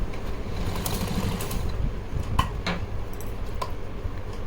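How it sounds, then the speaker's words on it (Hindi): A sewing machine stitches fabric for a small Laddu Gopal deity outfit. It runs with a steady, close mechanical whir and a few light ticks and clicks, and no one speaks. "पीछे से एक बार और सिलाई लगा लेती हूँ मैं"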